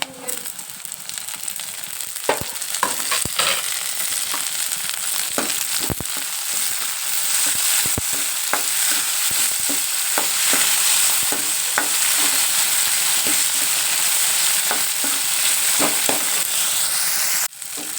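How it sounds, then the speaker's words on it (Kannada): Curry leaves sizzle and crackle in hot frying oil while tempering poha, a steady close, loud fry with sharp pops and spatters scattered throughout, with occasional stirring. "ನೋಡಿರಿ ಕರಿಬೇವು ಹಾಕ್ತೀನಿ"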